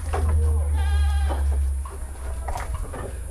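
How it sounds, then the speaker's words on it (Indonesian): An Etawa goat bleats once, loud and close, in a goat pen, with a low rumbling background and brief talk nearby afterward. "Nah ini kandang kambingnya Mas Jarto teman."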